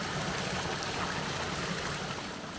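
A rushing stream in nature at Nyfors near Tyresö, a dense steady hiss and burble of flowing water that continues evenly throughout with no voices.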